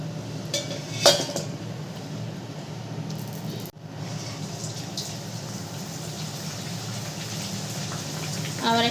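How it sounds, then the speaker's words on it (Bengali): Pea-filled kochuri sizzle as they fry in hot oil, giving a steady crackling hiss that runs throughout, with a brief utensil clink near the start. "ভাজা হচ্ছে আবার"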